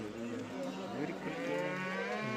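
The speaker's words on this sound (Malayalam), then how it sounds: "നല്ല കറവ പശുക്കളൊക്കെ ഇവിടെ നിൽപ്പുണ്ട്" Cattle at a livestock market, among them dairy cows and calves, give a drawn-out, fairly quiet moo that rises and falls over a murmur of market background noise.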